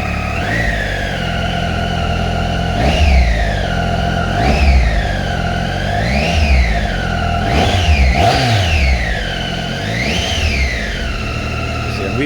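A Triumph Tiger 800 XRT three-cylinder motorcycle engine revs repeatedly in steady blips, each rise and fall of pitch carrying a whining tone over a constant close, loud idle rumble.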